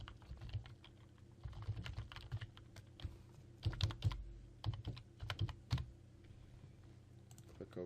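Someone types a username and password on a computer keyboard while setting up email, producing close, quick bursts of key clicks with short pauses between runs, quiet and alone.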